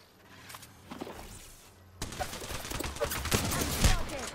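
Bursts of gunfire in the Apex Legends video game, a ranked arena match, with sparse shots early then a denser, louder volley of rapid fire and impacts building toward the end.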